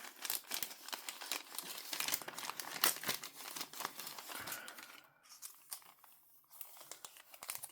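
Wrapping paper crinkles and crackles as a small item is unwrapped up close, a busy run of rustles and crumples that thins out toward the end.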